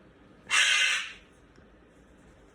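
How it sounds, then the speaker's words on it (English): A pet cockatoo gives one loud, harsh screech lasting about half a second, close to the microphone, then the room goes quiet with faint background noise. "you're a good little cockatoo"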